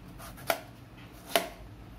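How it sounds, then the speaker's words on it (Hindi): A knife chops tomatoes finely for a hotel-style dal tadka, giving two crisp, isolated taps on a board about a second apart in a quiet kitchen. "टमाटर को भी मैं कट कर लेती हूँ।"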